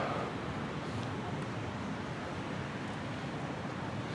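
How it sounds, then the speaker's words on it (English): Ocean surf breaking on An Thuong and My An beaches in Da Nang, Vietnam, a continuous low roar of waves mixed with wind rumble on the microphone, steady and moderately loud with no voices. "those waves though"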